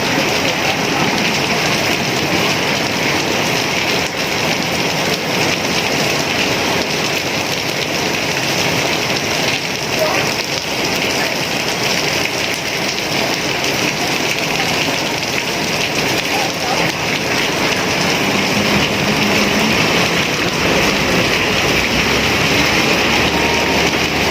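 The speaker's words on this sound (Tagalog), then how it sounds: "Lalong lumakas ang ulan eh." Heavy rain pours in a dense, constant hiss on surfaces nearby, loud and unbroken for the whole stretch with no other sounds standing out.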